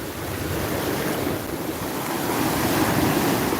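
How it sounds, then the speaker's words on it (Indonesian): Large ocean waves surge and break steadily on a beach at Jumiang, a continuous loud roar of surf mixed with wind noise on the microphone, with no talking. "Ini ombaknya lumayan besar"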